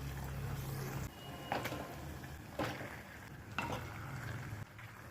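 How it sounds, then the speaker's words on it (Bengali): Marinated chicken frying in spice paste in a pot for handi chicken, a soft steady sizzle broken by a few sharp stirring scrapes against the pot, quiet and close with no talking. "এবার এর মধ্যে ম্যারিনেট করা চিকেনটা দিয়ে দেব।"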